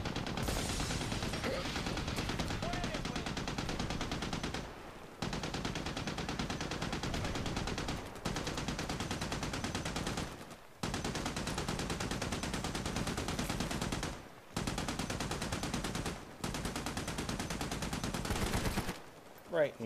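Turret machine gun fire in the video game Army of Two roars in long sustained bursts broken by short gaps, loud and close, with a voice talking over it.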